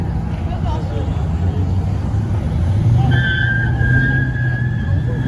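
Nissan Titan pickup truck doing a burnout at a Pittsburgh car meet, a rumbling engine building under crowd chatter, then a sustained high tire squeal starting midway and holding to the end.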